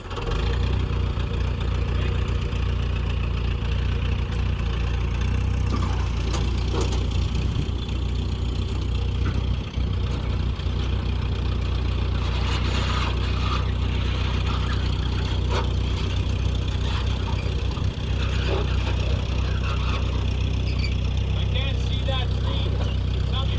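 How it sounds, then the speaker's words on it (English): A farm tractor engine idles and runs steadily close by with a constant low rumble throughout, while a person talks intermittently over it. "then I'm going to fire up the tractor"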